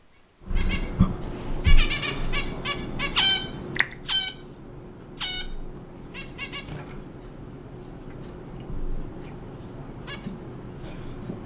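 A pet bird calling in a studio, a run of rapid, stuttering chirps and squawks in the first half that thin out into sparse calls over a low room hum.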